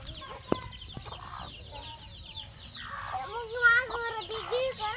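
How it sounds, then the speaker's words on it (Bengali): Hens and chicks cluck and peep close by in a village yard, with short repeated clucks and higher chirps rising toward the end over faint background noise and a brief knock. "এই যে মুরগির বাচ্চা"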